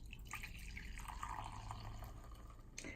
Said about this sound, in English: I'm just pouring myself a cup in my favorite Smokey the Bear mug.